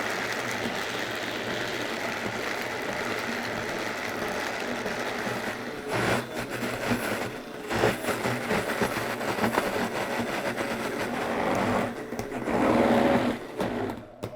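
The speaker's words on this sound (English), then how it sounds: "Now I'm just going to blend." A blender grinds steadily through thick vegan cream cheese ingredients, a continuous buzzing motor drone with some rattling shifts as the mixture churns, heard alone and fairly close.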